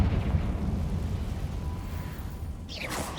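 A Confringo fire spell explodes in the Hogwarts Legacy video game, a rumbling burst that swells and crackles, followed near the end by a sharp whooshing blast over steady game ambience.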